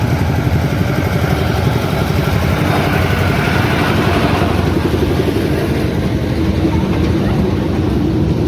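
A toy train runs through IG Park in Rourkela, its steady mechanical rumble and rattle filling the whole stretch at close range with no pauses and no talk over it.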